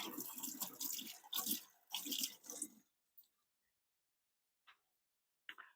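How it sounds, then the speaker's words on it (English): Kitchen utensils rinsed under a running tap: a loud, close gush of water in several bursts over about three seconds, then a few faint drips and splashes as it stops. "Let me rinse this right quick."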